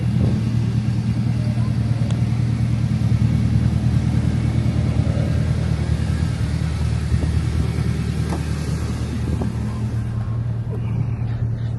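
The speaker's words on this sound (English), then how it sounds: "Car's there warming up." A K20 turbo Ferrari race car engine warms up nearby, idling as a steady low rumble with slight revving throughout, while a person talks over it.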